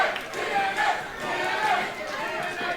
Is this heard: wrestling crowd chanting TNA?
yes